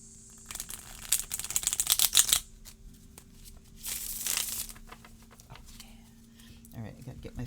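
Tarot cards being shuffled in quick papery bursts of riffling and flicking, two main flurries separated by quieter pauses, close and moderately soft.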